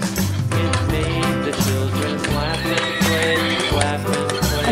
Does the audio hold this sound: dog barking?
no